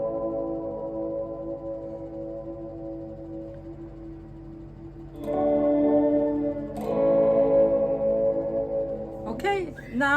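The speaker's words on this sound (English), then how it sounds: "this is what it sounds like, just the reverb pedal as special" Sustained electric guitar chords washed in heavy reverb from a Fender Reflecting Pool pedal on its special setting, swelling louder as new chords are struck around the middle, with a long shimmering tail that lingers.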